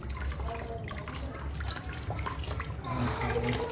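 Hot water from a gas geyser runs steadily from a tap, a continuous close splashing rush that holds an even level for nearly four seconds and swells slightly near the end.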